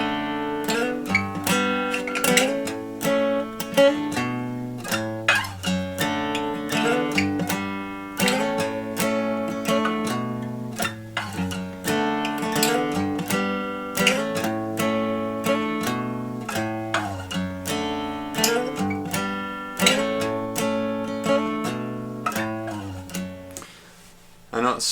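A guitar plays a rhythmic picked passage with chords and sliding notes, steady and close, continuing without pause.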